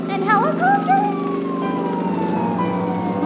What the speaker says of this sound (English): Are those police cars?